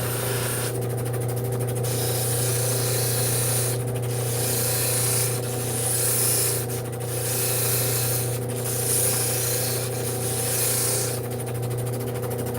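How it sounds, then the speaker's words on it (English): Edges of a carved witch sculpture are sanded by hand, a near, continuous rubbing scrape that comes in repeated strokes with brief pauses and shifts in texture over a low steady hum. "Like to keep the edges a little bit sanded so that they don't chip on me"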